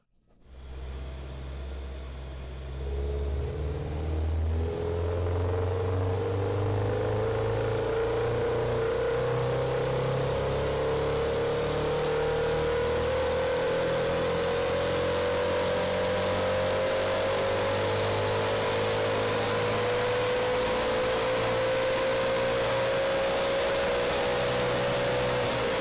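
A stock 2022 Subaru BRZ on pump gas is run on a chassis dyno: the engine drones loud and steady as its pitch climbs smoothly through a long pull lasting over twenty seconds, with no talk.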